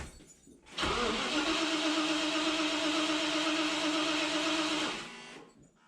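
A vintage Range Rover Classic engine fires up roughly, a loud sustained cranking-to-running roar with strong steady harmonics that holds for about four seconds before dropping away, no voices.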